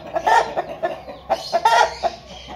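Aseel rooster at a Multan chicken market giving a run of close, loud clucks and squawks in uneven bursts, with market noise behind.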